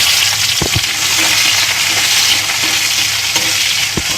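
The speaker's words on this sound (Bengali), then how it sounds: "শুকনো লঙ্কা দিয়ে দিলাম, এলাচ দারচিনি লবঙ্গ দিয়ে দিলাম, পেঁয়াজ কুচি দিয়ে দিলাম" Dried chillies, cardamom, cinnamon, cloves and chopped onion fry in hot oil with a loud, dense, unbroken sizzle and a few sharp knocks of a spoon against the pan.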